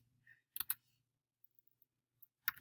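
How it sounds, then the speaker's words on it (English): Sparse taps on a computer keyboard, a few quick key clicks in small clusters with silence between, close and fairly quiet. "So we'll type in test"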